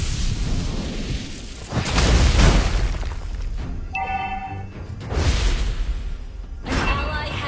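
A turret being destroyed in the Mobile Legends video game, heard as several loud booming explosion bursts spread across the stretch, with game sound effects and chimes between them.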